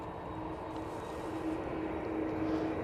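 Boeing 787 Dreamliner at Manchester Airport, a continuous broad roar of jet engines with a faint steady whine, sustained and fairly strong throughout with no speech.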